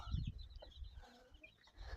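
Faint clucking from a few chickens nearby, soft and scattered over a low rustling background.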